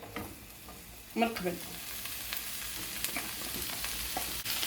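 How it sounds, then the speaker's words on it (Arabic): Boiled beans are stirred and sautéed in a pan, sizzling steadily up close with scraping spoon strokes; a voice briefly speaks over it. "نحرك الكل ونصوطيو فيه اللوبيا اللي كنا سلقناها في الماء والملحه"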